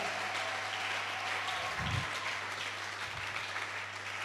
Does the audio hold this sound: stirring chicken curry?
no